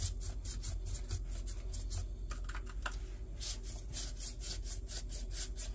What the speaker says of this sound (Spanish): vamos a untarlos bien untaditos